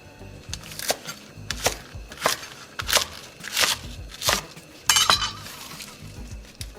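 A knife chops vegetables for salsa on a cutting board in a home kitchen, giving a steady run of sharp, close knocks with occasional clinks, with no talk over it.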